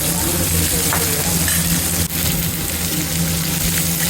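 Tomato chutney with dried red chillies and coconut pieces sautéing in a pan, a loud, steady sizzle and crackle running continuously close up, with a brief stir-like scrape partway through.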